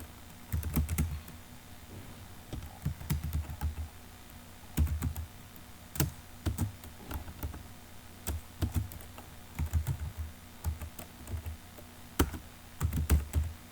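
Typing an email address on a computer keyboard, clusters of quick clicking keystrokes in short bursts separated by brief pauses, close and clear.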